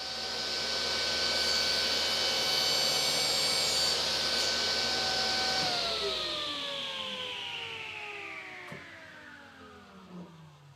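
A saw runs a test cut after its rail fence is adjusted, its motor droning loud and steady before the pitch drops and the whine fades away as the blade spins down.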